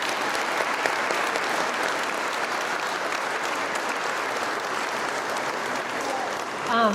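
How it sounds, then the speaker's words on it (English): At a graduation ceremony, the audience applauds Journeyman certification graduates with a loud, even stream of clapping that runs almost seven seconds before a voice cuts in at the very end. "one more round of applause for them"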